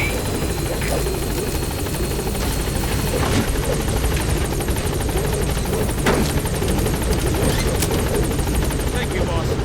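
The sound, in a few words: helicopter lifting off in video game Metal Gear Solid V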